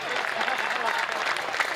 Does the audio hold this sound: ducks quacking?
no